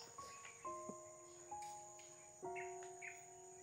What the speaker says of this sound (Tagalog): Ano to, insekto? Insekto ba?